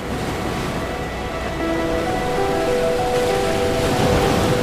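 Ocean waves wash onto the shore as a continuous, loud broadband roar with no distinct breaks.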